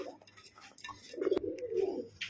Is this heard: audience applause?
no